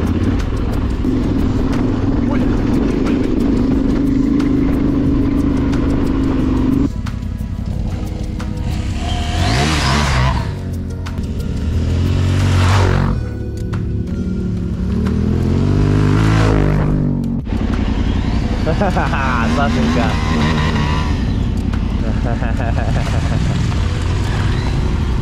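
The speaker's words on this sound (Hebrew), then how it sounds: "אופנוע." Heavy motorcycles ride off-road across the desert, their engines rising and surging loudly in bursts with wind noise, while people talk at times over the riding.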